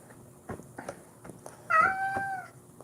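A cat lets out a drawn-out, wavering meow, fairly close, after a few soft knocks and shuffles in a quiet room.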